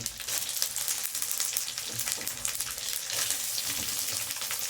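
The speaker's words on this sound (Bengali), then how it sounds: "এবার দিয়ে দিলাম চিংড়ি মাছ, দিয়ে ভেজে নেব।" Shrimp frying in hot oil with ridge gourd, potato and tomato gives a loud, bright, crackling sizzle that surges as the pan is stirred, steady for several seconds with no talking.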